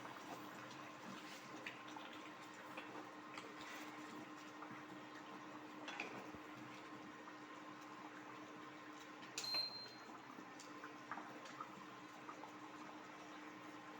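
Hot water is poured into a pot of chicken khichri made with Gobindobhog rice, a faint, steady watery rush and sizzle with a brief louder splash near the end.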